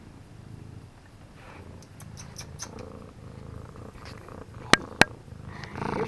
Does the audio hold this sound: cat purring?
yes